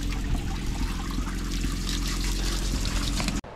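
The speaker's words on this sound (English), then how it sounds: "there's water flowing down right here" A small, cold stream of water flows down toward a short river feeding a lake in Alaska, a steady close burble and trickle that ends abruptly at the close.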